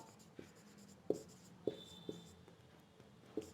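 Chalk or marker strokes while maths is written on a board, faint scratching broken by several sharp taps spaced about half a second apart, quiet and with no talk.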